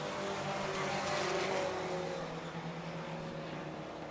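Four-cylinder pro race cars run a 25-lap feature on an oval track, a continuous engine roar from a passing pack heard at a distance, steady and loud without a break.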